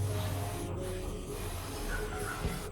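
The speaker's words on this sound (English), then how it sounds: "we spray the solution onto the orchid leaves" A spray bottle mists a cleaning solution onto orchid leaves, producing a soft, steady hiss that runs for a few seconds at low volume, close by and without voices.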